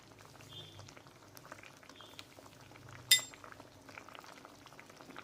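Water simmers in a cooking pot, a soft, faint bubbling texture with scattered light clinks and one sharp metallic tap midway.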